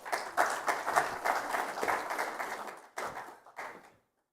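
Audience applause welcoming a speaker to a cyber security conference session, a steady burst of clapping for about three seconds that breaks off, then two short follow-up rounds before fading to silence.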